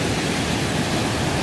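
A waterfall in Dalgung valley at Baemsagol on Jirisan pours into a deep pool about 5 m deep. It makes a steady, dense rushing roar that is close and unbroken, with no voices.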